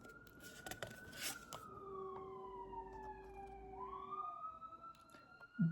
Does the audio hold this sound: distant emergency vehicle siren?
yes